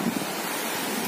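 Sea waves wash along a nearby shoreline in a steady, close rush blended with wind noise, without talking.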